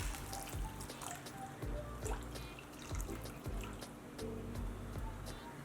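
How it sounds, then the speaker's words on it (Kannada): A cup of water goes into a pan of rasam on the stove, producing a quiet, splashy watery rush with soft repeated drips and clinks, heard alone without speech. "ಇನ್ನೊಂದು ಕಪ್ನಷ್ಟು ನೀರು ಹಾಕೊಳ್ಳಿ"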